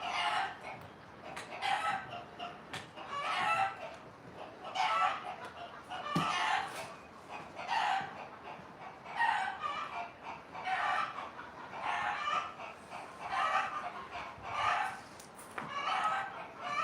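Chickens clucking in repeated, fairly faint bursts at a steady pace throughout, with a rooster crowing among them, no talk over the birds.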